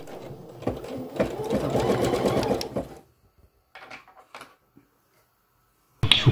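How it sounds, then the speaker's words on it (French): A Bernina Chicago 7 embroidery machine stitching, a rapid close rattling hum for a few seconds, then near silence with scattered clicks before the stitching resumes abruptly. "on va pouvoir commencer à broder. Et donc on abaisse le pied"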